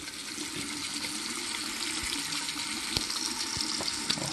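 A tap runs steadily with well water, a broadband rushing hiss that holds on throughout, close and fairly loud, with a few small splashes and clinks on top.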